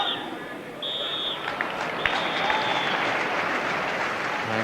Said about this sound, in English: good applause for the players as they come off